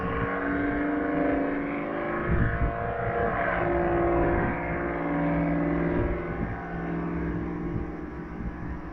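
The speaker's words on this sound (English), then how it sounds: "That was a loud diesel, son. That was a loud diesel." A heavy diesel truck engine roars continuously close by, its rumbling pitch rising and falling as it revs, loud throughout with no talking.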